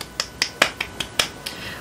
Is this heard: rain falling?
no